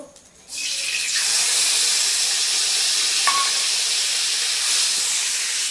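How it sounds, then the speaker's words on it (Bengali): Onion hits hot oil in a heated pan with a sudden loud sizzle that holds as a steady, close hiss for several seconds. "গরম হয়ে গেছে পেঁয়াজটা দিয়ে দেবো"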